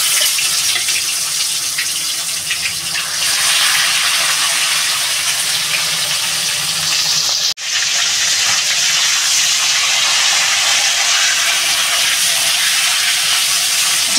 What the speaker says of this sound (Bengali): দুটো দুটো করেই বন্ধুরা ভেজে নিলাম মাছগুলো সব